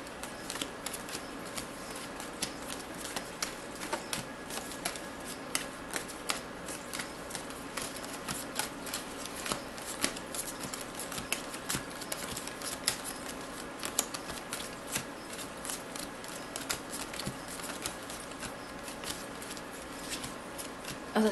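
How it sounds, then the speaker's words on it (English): Trading cards being shuffled during a Magic: The Gathering match, giving a steady rapid riffling and snapping patter that runs continuously at close range, with no talk over it. "Oh, you're gonna do a legacy shuffle on me?"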